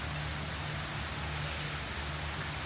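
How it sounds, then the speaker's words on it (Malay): Heavy rain on an island trip, a dense, constant roar of downpour filling the whole clip, steady and close with no voices. "Hujan lebat."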